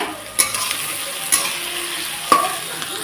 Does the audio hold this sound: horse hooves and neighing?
no